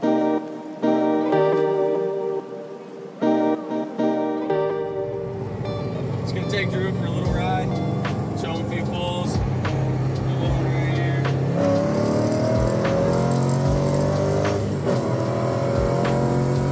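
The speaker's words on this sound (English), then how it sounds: "So now we're probably gonna go take this thing for a ride and see what it does on the street" A 350Z with a swapped LS V8 making roughly 400 horsepower, driven on a public street, its engine note building from a steady drone into a loud, continuous rumble with rising revs, while people talk over it.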